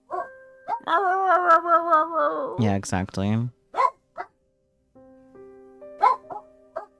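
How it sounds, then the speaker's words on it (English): A dog barks and whimpers repeatedly up close, a series of yips and longer bark-howls with pauses, while a person speaks briefly over it. "there are a bunch of other dogs barking outside as well"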